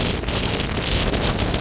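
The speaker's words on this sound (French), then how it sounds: "il y a un vent de l'enfer" Strong storm wind gusts roar during a thunderstorm, a loud, dense, unbroken rush battering the microphone with no voices.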